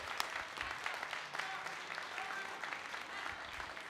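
Audience applause at a live PorcFest event, a steady wash of clapping from a crowd, fairly even and sustained throughout with no voices on top.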